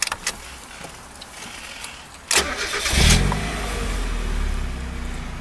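A 1995 Mazda Miata M-Series with about 108,000 miles cranks briefly, catches and settles into a steady idle, preceded by a few small clicks and a key-like rattle, recorded up close.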